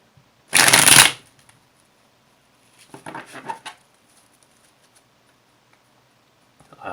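A deck of tarot cards riffles in a sharp, close burst, then a softer stretch of card shuffling follows a couple of seconds later, with quiet pauses between.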